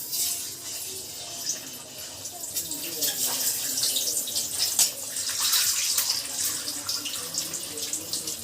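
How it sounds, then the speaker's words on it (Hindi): An egg fries in hot oil, giving a steady, bright, hissing sizzle that crackles and spits throughout without a break. "तब तेल में हमन हा अंडा डालबो, थोड़ा दूर से डाला ताकि छिटका मत, बहुत छिटक थे तेल हा"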